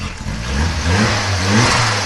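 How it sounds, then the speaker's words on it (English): A turbocharged car engine revs up in a steady mid-low drone that rises and swells, with a faint fluttering turbo chatter on the rise, close and fairly loud. "small amount of turbo flutter"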